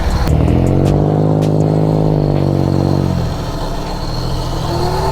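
Motorcycle engines rev loudly nearby in a rising and falling roar, then drop back to a lower, rough idle.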